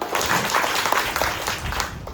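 Sustained crowd clapping from an audience of adolescent girls at a camp talk, continuous and fairly loud throughout with a few voices mixed in.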